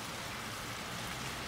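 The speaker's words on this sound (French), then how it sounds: "On voit sur la route que les précipitations sont vraiment abondantes." Mixed rain and snow falls heavily in Lille, a dense, steady hiss of precipitation with no breaks, fairly loud and close, with no voices.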